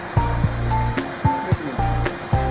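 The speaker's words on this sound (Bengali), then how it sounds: "এই হচ্ছে জলের স্রোত। এই দেখুন প্রচুর জল যাচ্ছে।" Strong water current rushing down from higher ground during the early monsoon, a steady broadband roar with recurring rhythmic thumps and surges, close and fairly loud with no speech.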